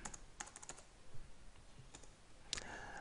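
Faint, quick keystrokes click on a computer keyboard as a short command is typed, a few taps spaced unevenly over a couple of seconds in a quiet room.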